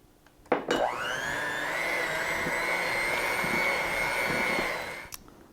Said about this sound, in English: then I'm going to blend this together